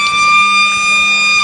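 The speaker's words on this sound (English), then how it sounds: "The unquestionable blaring siren sees us underway in the final term." A loud, steady blaring siren with a strong, unbroken tone sounds alone, starting the final quarter of an Australian rules football match between the Tigers and the Bulls at a local ground.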